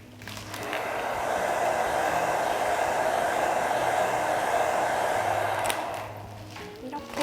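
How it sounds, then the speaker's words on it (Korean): A hair dryer blows with a constant whooshing hum on hair wound on a round brush, starting up, running steadily for several seconds, then winding down. "이 상태에서 드라이기 열을 줄게요"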